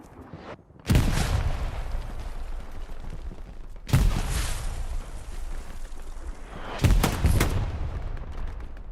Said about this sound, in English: Getting closer and closer, throwing his grenades.